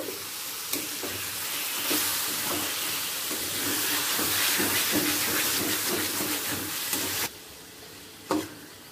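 Minced chicken sizzles in oil in a pan for a chicken egg tarka: a loud, steady frying hiss with scraping stirs throughout, cutting off sharply near the end before one last brief burst.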